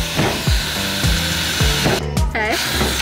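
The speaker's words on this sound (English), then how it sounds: "You're literally just like drilling holes in it until it breaks." A power drill bites into a van roof, several short bursts of drilling at a steady pace with a harsher whining burst near the end, loud and close.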